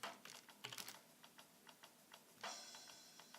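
Typing on a computer keyboard, entering text while setting up a Doom mod level: a burst of quick clacks followed by sparse, evenly spaced key taps, then a louder flurry near the end, close and quiet with no talk.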